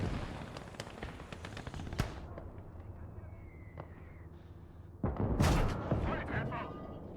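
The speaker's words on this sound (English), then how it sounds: "Firing some high explosive." Tank cannon firing high-explosive rounds in the World War II game Gates of Hell, set on a battlefield with ongoing gunfire: several sharp blasts early, then a heavy, loud boom with a lingering rumble near the end, over a continuous background of combat noise.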